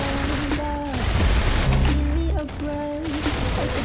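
Rapid gunfire from the Roblox shooter Arsenal, loud bursts of automatic fire with a heavier booming volley in the middle, mixed with game music tones and a voice speaking briefly.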